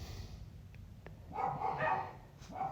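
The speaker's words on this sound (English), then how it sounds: "Oh my God, my dogs are going freaking insane." Dogs indoors bark in the background, with a couple of sharp yips early on and then a run of excited barking that grows louder toward the middle, fairly faint overall.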